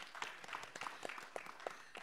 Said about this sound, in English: A round of applause for Devina.